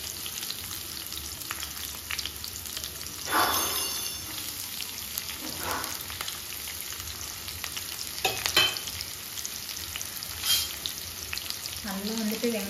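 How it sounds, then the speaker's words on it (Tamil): Long-sliced onion sautés in hot oil with cloves and cinnamon, giving a continuous close sizzle with occasional spatula scrapes and clinks against the pan. "வெங்காயம் கொஞ்சம் ஒரு கலர் லேசாக பொன்னிறமாக செஞ்சு வர அளவுக்கு வதக்கலாம்"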